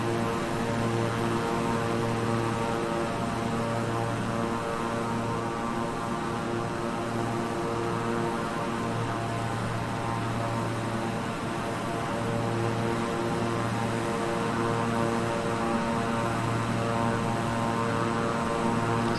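Steady twin propeller drone of a Beechcraft 350i King Air in Microsoft Flight Simulator, a constant loud hum with strong low tonal bands and no break throughout.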